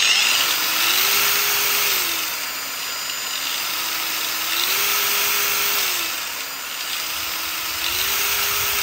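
Battery-powered angle grinder running at a set speed, a steady close motor whine that rises and dips in pitch as the speed setting changes, with no talking.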